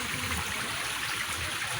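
Flood water rushes past outside a house in the Philippines, a steady, dense wash of flowing water that fills the whole moment without a break.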